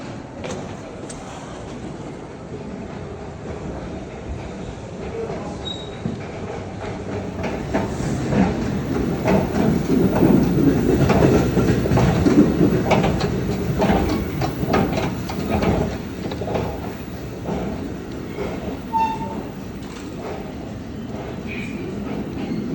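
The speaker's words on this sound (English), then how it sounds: "Here is the trains departing and arriving at Newark Liberty Airport." A train rumbles through Newark Liberty Airport rail station, its low rolling noise swelling to a peak midway and then easing, with faint clicks and station ambience throughout.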